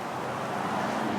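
Road traffic on a Louisiana roadway gives a steady, broad roar of passing cars, moderately close and continuous for the whole short stretch, with no voices over it.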